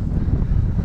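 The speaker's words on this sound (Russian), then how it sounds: "Все, опять начался ветер." Wind buffets the microphone by a river during fishing on the Amur, a loud low rumbling gust with no voices.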